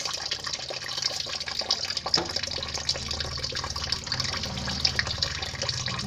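Water being poured over the body while bathing outdoors, a continuous close splashing and trickling that runs throughout with small surges, no one talking.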